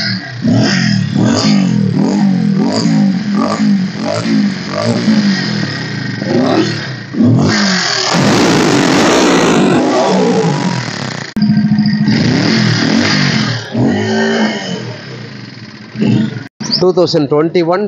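A 2021 Pulsar 150 ABS motorcycle engine revs repeatedly in short bursts, close by, with pauses and a brief idle between throttle blips.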